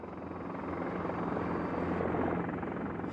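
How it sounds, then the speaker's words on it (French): A Super Frelon helicopter drones steadily and close throughout, a dense, continuous rotor and engine roar with no other sounds. "Un hélicoptère super frelon."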